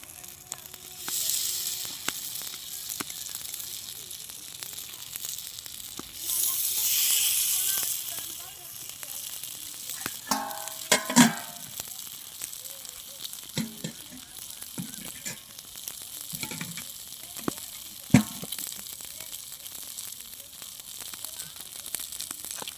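Masala-coated fish fries in a preheated pan over a smoky stove, giving a steady sizzling hiss with a loud surge early on and scattered crackles and pops, while voices talk over it now and then.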